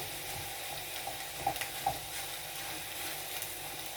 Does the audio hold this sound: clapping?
no